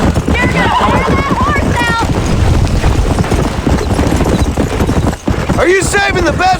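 Video-game hooves clatter in a fast, continuous galloping rhythm, close and loud, with people talking over it and a horse whinnying near the end.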